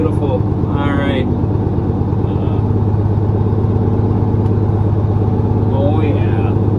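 A 1968 Dodge C500 truck's engine runs with a steady low, throbbing rumble as air brakes release and it begins to move, with a brief hiss of air and voices talking over it.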